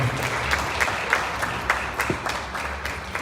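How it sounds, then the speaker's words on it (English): An award ceremony audience applauding a speaker, with dense continuous clapping from a crowd in a hall and some louder individual claps standing out. "a round of applause for her"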